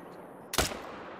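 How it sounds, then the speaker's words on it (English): Single sharp semi-automatic rifle shot in the hunting game theHunter: Call of the Wild, a loud broadband crack with a short decaying tail over quiet outdoor ambience. "I love that it's semi-auto. You can just immediately go in for that follow-up shot."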